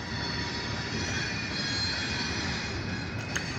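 An OC&T freight train in Titusville, Pennsylvania rolls slowly backward, giving a steady low rumble of wheels on rail with faint metallic squeal. A brief sharp clank comes near the end.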